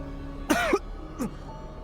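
A man coughs up close, first a harsh, throaty double cough and then a shorter, weaker cough after a pause.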